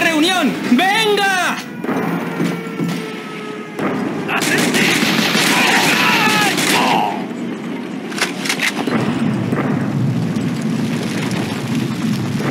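Gunfire in the World War II shooter Call of Duty: Roads to Victory, with bursts of shots and booming blasts running through most of the clip, mixed with shouted voices and game music.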